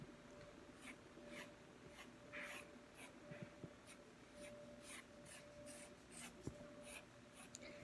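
A pencil strokes across paper while drawing a tree trunk, a series of quiet, close scratchy rubs in short repeated bursts with faint background hum.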